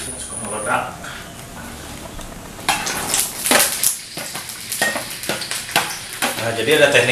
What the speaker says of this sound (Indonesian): Ya, kita goreng dulu ya untuk sambal.